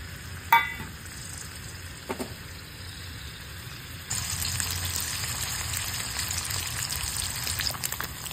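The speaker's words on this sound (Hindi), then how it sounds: "त्याच्यासाठी मी हा पनीर इथे फ्राय करून घेते" Paneer cubes frying in hot oil in a pan while making palak paneer give a steady soft sizzle, with a couple of brief clinks early on and a louder, fuller crackle from midway to the end.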